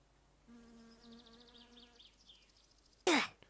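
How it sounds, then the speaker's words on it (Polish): Flies buzz in short wavering bursts in the video game My Summer Car, faint and close, followed by a sudden loud sharp burst near the end. "Jebane muchy jeszcze do tego."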